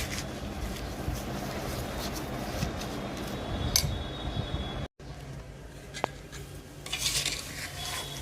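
A spoon scrapes and stirs sugar through raw mango pickle in a metal pot, a continuous close scraping and squelching with occasional clinks against the pot, broken by a brief pause midway.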